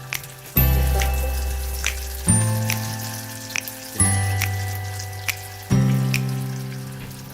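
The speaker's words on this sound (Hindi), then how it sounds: "स्प्रिंग रोल्स की जो शीट्स होती हैं, इसको भी मैं कुछ को फ्राई कर लूँगी" Spring roll sheets frying in hot oil: a steady crackling sizzle punctuated by several sharp bursts as each sheet drops in, each burst fading gradually, with no talking.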